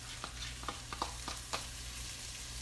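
Finely chopped celery and a medium onion sizzle in melted butter as the base for an oyster stew. A low, steady frying hiss runs throughout, broken by several soft stirring clicks and taps, with no talking.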